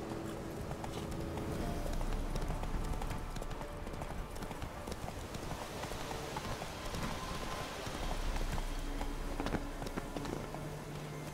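Hooves of Roach, a horse in the video game The Witcher 3, clip-clop steadily at a trot over a rainy, hissing ambience, with someone talking now and then.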